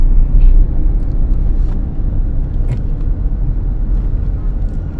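Car engine running steadily while driving, a continuous low rumble with shifting load as a learner changes gears, close and alone with no voices.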